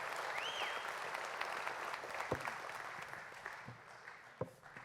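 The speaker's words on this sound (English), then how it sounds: "Give them a big hand of applause." Audience applause at a tribute event honoring a sponsor, a steady wash of clapping that stays fairly even and moderately distant, with a few sharper hand claps near the end.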